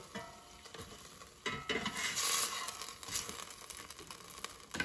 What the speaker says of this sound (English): let's take out the air fryer basket and flip the steak over